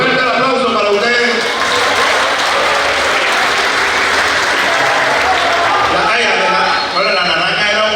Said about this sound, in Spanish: Fuerte el aplauso para ustedes.